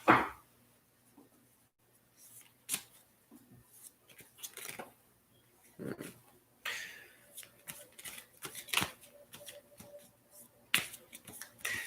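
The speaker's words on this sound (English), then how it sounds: "Let's draw some cards from the tarot and clarify this." Tarot cards drawn and handled from a deck, faint close papery snaps, flicks and shuffles in an irregular scatter, several sharper card slaps standing out against near silence, no speech.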